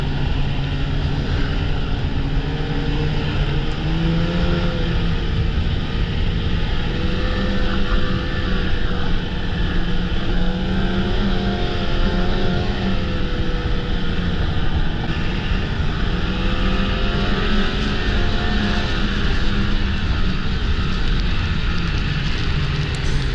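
A snowmobile engine drones steadily and loudly while riding a groomed trail near Old Forge, its pitch rising and falling slightly with throttle, with wind rush throughout and no pauses.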